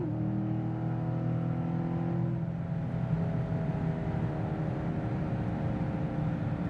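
Car engine pulling in third gear up to about 4,000 RPM, heard from inside the cabin as a steady, fairly quiet drone with a low hum that shifts partway through.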